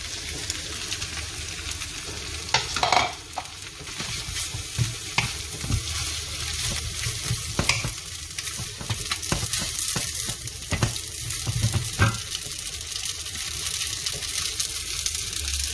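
Pad thai noodles stir-fried in a hot pan, a continuous loud sizzle with repeated scraping and clattering strokes of a utensil throughout, close up.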